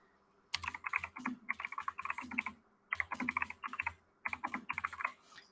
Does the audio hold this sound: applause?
no